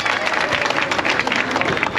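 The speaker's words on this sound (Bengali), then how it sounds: "হাততালি হবে জোরে" Dense, steady clapping from an audience at a bikers' club first-anniversary celebration, with crowd noise throughout.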